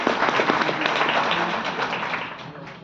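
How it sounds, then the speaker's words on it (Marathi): Audience applause at an award ceremony honoring court staff, a dense, steady wash of many hands clapping that carries on for the whole stretch and tapers a little near the end. "तुम्ही टाळ्या वाजवतच राहा, ते ओळीत येणार आहेत."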